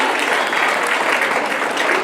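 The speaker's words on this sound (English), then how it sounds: "Round of applause to Mr. Shaya." Dense, steady applause from an audience at a student council campaign event, honoring a candidate after his speech; it fills the whole short stretch at an even, close volume.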